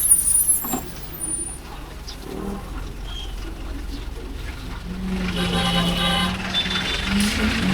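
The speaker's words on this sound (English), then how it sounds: "There's another city bus, a small one." A small city bus moves along a rainy street in Cebu in the Philippines. Its engine hum and brake hiss swell in the second half over steady traffic noise, with occasional bird coos nearby.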